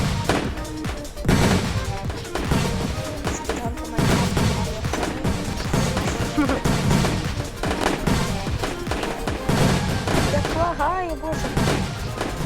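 Fireworks explode in the Roblox game Toilet Tower Defense as a dense, continuous run of loud bangs and crackling bursts, with people talking over them.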